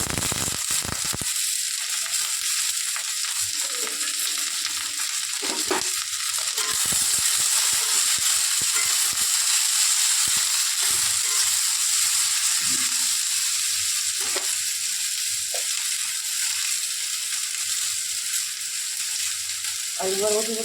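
Potatoes and yardlong beans fry in a pan with a steady, bright sizzle throughout, broken by occasional clatters of stirring, close up and without talk.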